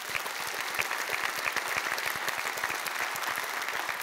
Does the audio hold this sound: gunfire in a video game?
no